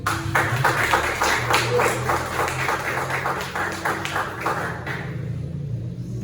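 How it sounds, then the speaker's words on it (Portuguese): Church congregation clapping in praise during an evening service, a rhythmic, steady patter of many hands over a low hum, fading toward the end. "Aplauda o Senhor"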